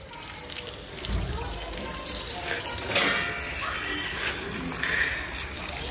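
Water running from a hose pipe during gardening with soil and plants, a steady broadband rush with a louder surge about a second in, continuing close and constant throughout.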